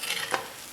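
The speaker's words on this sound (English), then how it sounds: "Let's stir a little of that cheese in so it kind of gets everywhere" A utensil folds cheese through potatoes in a Dutch oven, making a brief soft scrape with a faint sizzle beneath and a single slightly stronger swish partway through, no voices.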